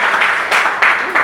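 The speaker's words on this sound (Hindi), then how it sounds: "जोरदार ताली हो जाए।" An audience at a memorial lecture in a school breaks into loud, sustained applause, with dense clapping that surges in waves through the short moment.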